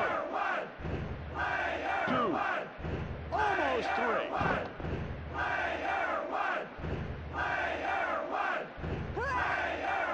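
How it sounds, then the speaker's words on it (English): Wrestling arena crowd in the WWF Warzone video game, a loud continuous roar of cheering and chanting that swells and dips in waves, with thuds underneath. "Listen to this capacity crowd. They can't get enough."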